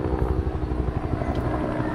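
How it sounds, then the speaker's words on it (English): Helicopter rotor from the Vietnam era thumps in a rapid, steady rhythm close by, a low continuous chopping beat with no voices over it. "The sound that the rotor makes is very familiar to troops during that time."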